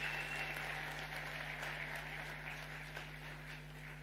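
Faint applause rises from the audience at a university graduation ceremony as a speaker is welcomed to the podium, a soft continuous patter of clapping over a low steady electrical hum.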